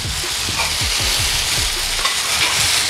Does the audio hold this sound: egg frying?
yes